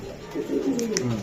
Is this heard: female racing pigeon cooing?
yes